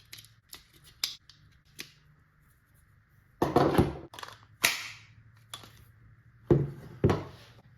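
B&T KH9 pistol being function tested, with a string of sharp mechanical clicks and snaps from the slide and trigger action, close and distinct with quiet gaps between them.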